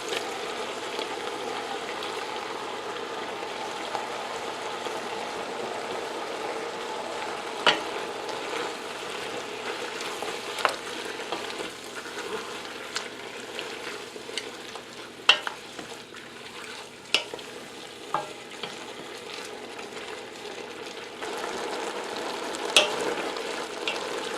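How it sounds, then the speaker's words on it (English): Pork liver fries in a hot pan for menudo, giving a steady close sizzle with occasional sharper pops and crackles and some stirring clicks. No voices are heard. "Now we're going to add our pork liver."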